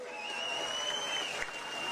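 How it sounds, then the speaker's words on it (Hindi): A crowd at a large outdoor gathering claps in a steady, even patter, with a thin high tone ringing over the clapping. "एक बारी होर तालियां मारो जी।"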